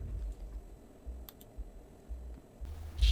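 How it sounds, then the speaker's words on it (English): A Cricut cutting machine cutting gold vinyl for an acrylic welcome sign, a quiet run of soft mechanical clicks and low whirring pulses, close and uneven, ending in a brief louder rustle. "then we cut with our Cricut"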